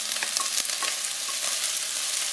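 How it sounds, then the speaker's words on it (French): Onions, garlic and carrots hit hot olive oil in a pan and sizzle steadily, with a few stirring scrapes and crackles, close and alone without talk. "Une fois que l'huile est bien chaude, je viens y verser les oignons, ail et carottes."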